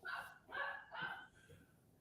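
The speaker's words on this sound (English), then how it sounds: "I apologize for my dog's barking." A pet dog barks three times in quick succession close by, followed by a fainter fourth bark, in an indoor room with no talk over it.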